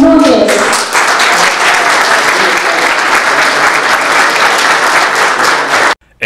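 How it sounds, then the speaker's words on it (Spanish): Steady, dense applause from an event audience, honoring a magazine president; loud and sustained for about six seconds before cutting off abruptly near the end. "Quiero un gran aplauso"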